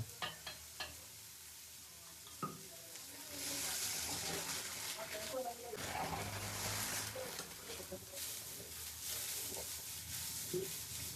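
Chopped onions fry in a pan for soppina sambar, a faint soft sizzle that swells into a steadier hiss after a few scattered clinks of a spoon, with light stirring scrapes throughout.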